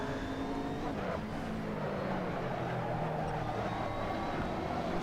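GT3 race cars from a BMW, McLaren and Mercedes field run in a close pack at Zandvoort in a racing video game, their engines droning loudly and continuously with shifting pitch as they chase one another.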